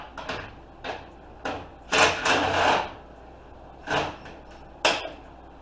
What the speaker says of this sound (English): impact driver.